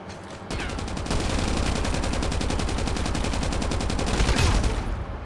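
Sustained fire from an RDP machine gun in the mobile shooter Call of Duty Mobile, a rapid, even stream of loud shots lasting several seconds without a pause, punctuated near the end by a heavier impact.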